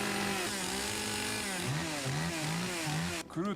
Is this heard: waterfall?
no